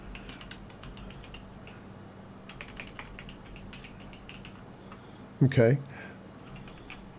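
Someone types commands for ZFS on Linux on a computer keyboard, producing quiet, scattered keystroke clicks in irregular clusters. A single brief spoken word cuts in near the end.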